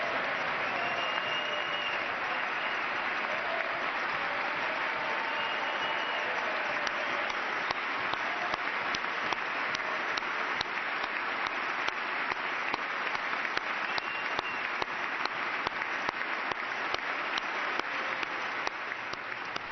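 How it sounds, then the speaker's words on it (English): A long standing ovation in a packed chamber at the State of the Union for Army Ranger Corey Remsburg, sustained thunderous clapping from a large crowd, steady and unbroken throughout, heard somewhat muffled as through a broadcast feed. "the nearly 2-minute standing ovation and applause was in honor of Army Ranger Corey Remsburg"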